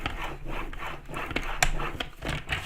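A blade scores a piece of wood at one-inch marks, making quiet, steady rhythmic rasping strokes close by, with no voices.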